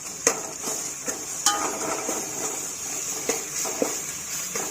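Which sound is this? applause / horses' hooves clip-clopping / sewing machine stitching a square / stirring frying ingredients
stirring frying ingredients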